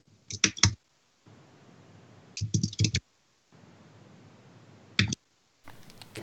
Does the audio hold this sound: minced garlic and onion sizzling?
no